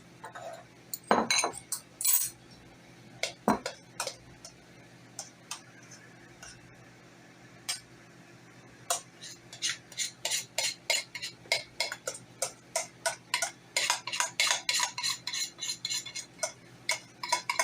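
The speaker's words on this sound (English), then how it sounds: "I'm going to stir this." Spoon scraping and clinking against a pot of grits, a string of sharp ticking taps that come sparse at first and then grow quicker and steady toward the end.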